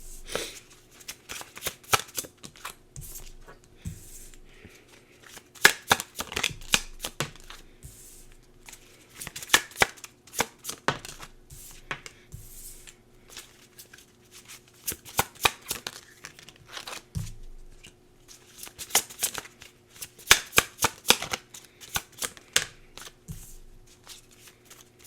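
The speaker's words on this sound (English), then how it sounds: "just give me 1 sec to pull some tarot cards for you" Tarot cards are shuffled by hand in repeated crisp riffling bursts, several separate bouts with short pauses between, close and alone with no voice.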